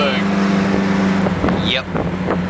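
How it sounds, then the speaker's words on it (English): An Alfa Romeo engine runs with no muffler, a raw, steady mechanical drone close by, with wind buffeting and a sharp whistling burst partway through. "This got a pretty advanced gearbox. Woo-wee! No muffler is a good thing."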